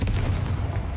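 A Confringo blasting spell from Hogwarts Legacy lands as a single heavy boom that rolls and fades over about a second.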